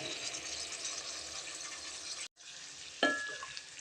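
Spiced masala sautés in oil with a steady close sizzle, broken by a brief pause before a utensil clinks against the pan and the frying resumes.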